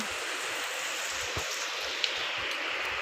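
Steady rain falls as a dense, hissing wash, with a few louder drips and splashes standing out nearby.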